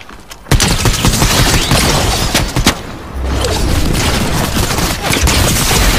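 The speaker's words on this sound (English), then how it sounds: "He's shooting at me." Dense, sustained gunfire from a Fortnite Chapter 4 match, loud and continuous with a brief dip partway through, rapid overlapping shots filling the whole stretch.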